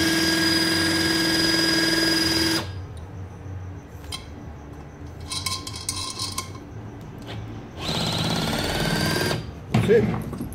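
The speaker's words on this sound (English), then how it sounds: "that's our quick change hydraulic puller, and that's just an accessory we have to pull out the studs" Hydraulic puller working on Chevy rocker studs: a loud, steady pump or motor drone for about two and a half seconds, quieter clicks and clatter, then a second loud burst of hydraulic running near the end.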